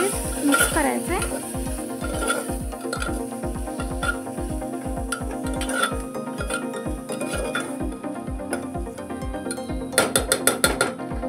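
Rasam spices being stirred and mixed in a pan for South Indian rasam rice, a rapid regular ticking scrape from the spoon over a soft sizzle, close up and continuous, with a quick burst of clicks near the end.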